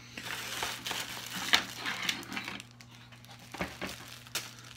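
Package holding a skull-shaped bar strainer being opened up close, with crinkling plastic, rustling and crumpling wrap and a few light taps, quiet and uneven.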